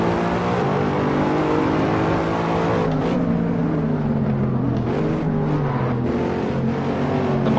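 Race car engine in the Assetto Corsa sim game, a constant loud whine that rises and dips as the driver shifts and lifts, with other cars' engines faintly overlapping.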